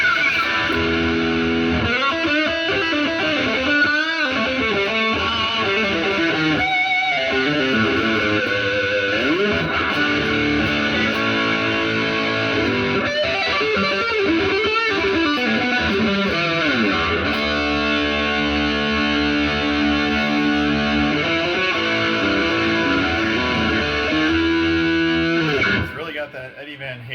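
A Kramer Baretta Special electric guitar roars through high-gain distortion, with fast riffs, chugging palm-muted passages and sustained chords played steadily and loudly before ringing out at the end.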